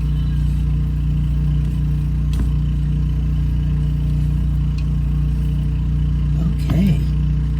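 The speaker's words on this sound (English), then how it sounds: "that's the generator on charging our batteries" An RV generator runs steadily in the background to charge the batteries, a constant low engine drone with a brief clatter near the end.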